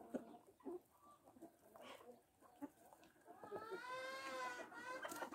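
Brahma hens cluck and call in an outdoor farm enclosure while they peck at fallen cherry plums, giving scattered soft clucks and then a louder drawn-out squawking call near the end, faint and fairly close.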